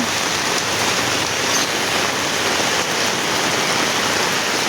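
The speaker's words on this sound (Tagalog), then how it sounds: "Ayan, pumapatak na ang ulan." Steady, dense rain pours continuously, a loud, even hiss of falling water with no voices.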